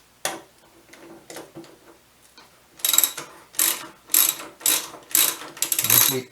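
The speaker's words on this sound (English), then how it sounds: "remove these 3 little bolts right here, and they use an 8mm socket also" A hand ratchet with an 8mm socket works the small dash bolts on a Kawasaki Vulcan 800 motorcycle, giving scattered soft clicks at first, then loud bursts of rapid pawl clicking in an even rhythm, close up.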